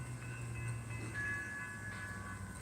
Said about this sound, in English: You can see this train just recorded as it goes by.